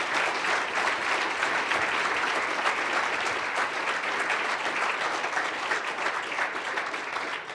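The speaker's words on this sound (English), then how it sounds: "if I could get a round of applause for the county executives" At the close of a public forum with county executives, an audience applauds loudly and steadily, a dense wash of clapping that carries on without pause and fades slightly at the end.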